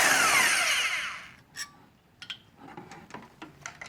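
An impact gun zips loudly for about a second and a half while taking out cylinder head bolts on a 5.3 LM7 engine, then comes a series of metallic clinks and light handling knocks.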